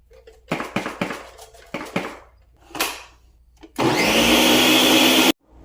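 Walnuts whir in a blender as they turn into walnut butter: several short bursts of grinding come first, then one loud, steady run of about a second and a half that stops abruptly.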